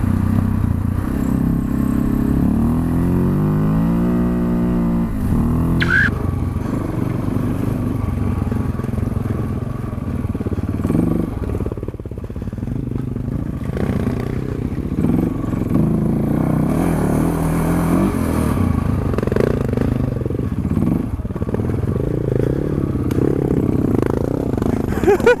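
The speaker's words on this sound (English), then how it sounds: "See the bike just sliding all over." Adventure motorcycle riding a slippery, washed-out trail, its engine droning steadily and close throughout, rising and falling with throttle, with scrapes and clatter from the wheels sliding over loose ground.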